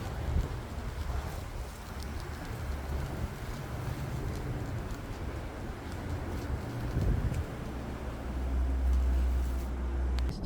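Wind blowing outdoors, a continuous low rumbling buffet with gusty swells, loud and close as if striking the microphone, strengthening toward the end with no talk.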